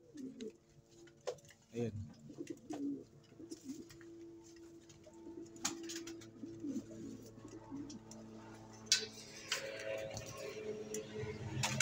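Racing pigeons cooing softly in a loft, low repeated coos with scattered wing flutters and clicks, while someone talks over them.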